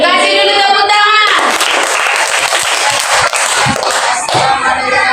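Classroom audience at a school lesson bursts into dense, sustained clapping right after a brief stretch of talk, the applause loud and close and filling the rest of the moment.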